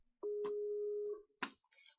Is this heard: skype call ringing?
yes